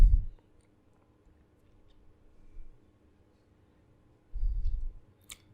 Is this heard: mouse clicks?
yes